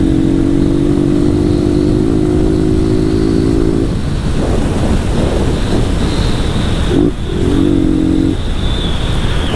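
A diesel-fuelled Honda Twister motorcycle runs loud and close, its engine note rising and falling in steady revs, with heavy wind rush over the microphone throughout and a brief dip near the end.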